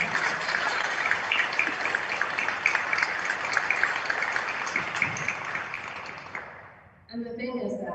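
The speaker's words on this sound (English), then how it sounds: "I say y'all give yourself a round of applause." Sustained audience applause at a military change of command ceremony for a recruiting squadron, dense and even clapping filling the room for several seconds before fading out, followed by a voice starting to speak.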